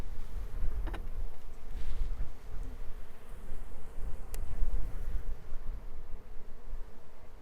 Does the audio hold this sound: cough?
no